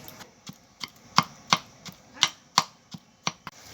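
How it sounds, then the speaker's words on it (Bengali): Coconut is pounded with a metal mortar and pestle for a chalkumro curry, sharp ringing strikes in a steady rhythm of about three per second, close and clear with no talk. "নারকেলটা আমি করে নিয়েছি, এই হামান দিস্তাই করে আমি একটু বেটে দেবো"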